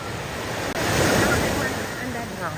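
Strong wind buffets the microphone at a seashore as waves wash in with a steady roar, loud and continuous with a brief dropout early on and faint voices underneath.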